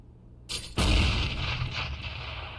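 A grenade explodes in a tactical video game with a loud, close boom that follows a short sharp pop. A long rumbling tail and crackling debris carry on afterward.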